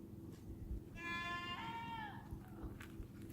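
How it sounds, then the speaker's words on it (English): Goats on a homestead bleat in a clear, wavering call of about a second, with a second shorter bleat joining partway, over steady farmyard background noise. "The goats,"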